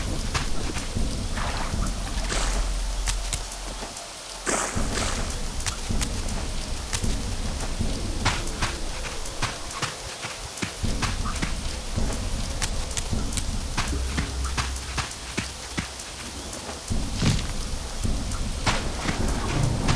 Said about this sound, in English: There's something about the constant rain